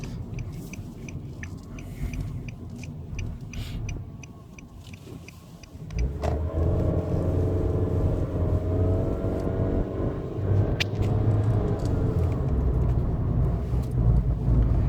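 A 2016 Nissan Versa Note SR on a road test drive accelerates, its engine note rising and holding steady as a loud, continuous drone with road and cabin noise after a quieter opening stretch.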